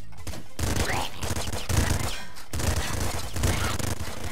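Shotgun blasts in the top-down shooter Nuclear Throne, a rapid string of loud, punchy bursts with brief gaps between volleys, filling the whole stretch alone without talk.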